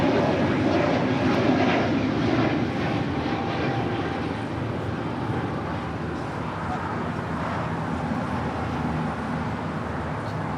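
A United Airlines 737-900ER airliner takes off at LAX, heard as a loud, steady, broadband jet roar that holds for the whole stretch without easing.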